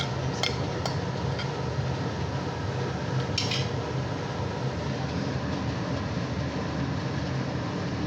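Cumin seeds fry in hot oil in a pan, giving a steady, even sizzle throughout, with a few light metallic clinks of a utensil against the pan.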